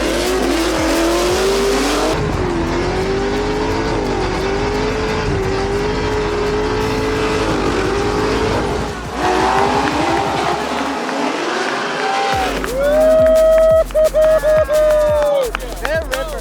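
Drift cars from a US Drift Circuit Pro-Am competition round slide through a corner, engines roaring loud and steady with sharp tire squeal rising near the end, while a commentator talks over the action.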